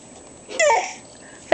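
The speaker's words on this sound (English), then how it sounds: "Do the fake cough." A small child gives a short, voiced fake cough, brief and close, with a soft vocal sound trailing after it.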